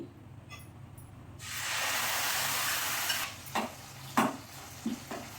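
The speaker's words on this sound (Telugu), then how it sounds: "ఈ ఆయిల్లో కొంచెం వేసి ఉడకనిస్తే చాలా టేస్ట్ వస్తుంది" Ground gongura leaf paste drops into hot oil and bursts into a loud, steady sizzle that then settles as a few scraping stirs cut through it.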